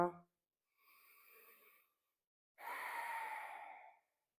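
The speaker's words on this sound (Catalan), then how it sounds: "Fes unes respiracions ben profundes" Deep, slow breaths during a Pilates exercise session, two long airy exhalations separated by silence, the second louder and closer, with a brief breath sound at the very start.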